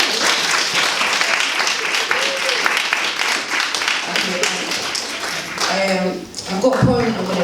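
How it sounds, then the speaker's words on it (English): A room full of people at an International Women's Day event in Luton breaks into lively applause, dense clapping lasting several seconds before fading, followed by voices talking. "Give yourself a round of applause."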